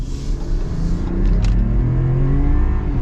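Turbo inline-six pickup truck engine accelerating hard, heard from inside the cab as a loud, building rumble with rising tones, steady and continuous without talk.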